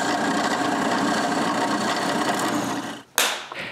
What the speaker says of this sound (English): I knock off the corners and drill one final hole.